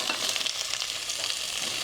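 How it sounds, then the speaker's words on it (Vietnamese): Potatoes and carrots fry in hot oil with garlic, giving a dense, continuous close-up sizzle with crackling throughout. "Mình sẽ cho phần khoai tây cà rốt vào để chiên."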